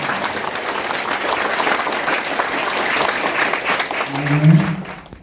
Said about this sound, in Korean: 선대위원장님께 다시 한번 큰 박수를 부탁드립니다